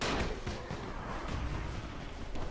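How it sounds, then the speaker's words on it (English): A firecracker goes off in the video game Dying Light 2, a loud burst of crackling bangs filling the whole moment with dense, rumbling noise and no talk. "Firecracker."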